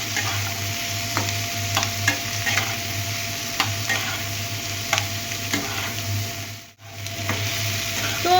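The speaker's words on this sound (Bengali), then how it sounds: "তো চলো একটু নাড়াচাড়া করে এগুলো আমরা ভেজে নিই হালকা করে।" Ingredients for butter chicken fry lightly in a pan under a steady low sizzle, while a spatula scrapes and stirs in regular strokes about once a second. One brief pause comes near the end.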